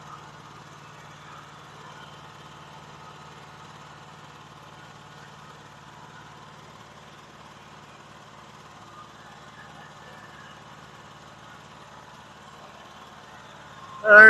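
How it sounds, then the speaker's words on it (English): A small generator engine hums at a steady idle for the whole stretch after its fuel cock has been shut off, running continuously and fairly close, with a brief louder knock at the very end. "I always shut the fuel cock off and let the generator run down."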